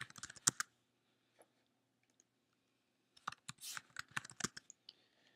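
Bursts of key clicks as a password is typed on a computer keyboard, a short flurry followed by a pause, a lone click, then a longer run of quick, close, light taps in an otherwise quiet room.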